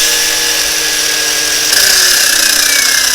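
A Parkside Performance PWSAP 20-Li C3 cordless angle grinder runs loud and steady with a high whine, its pitch rising slightly as it spins up partway through.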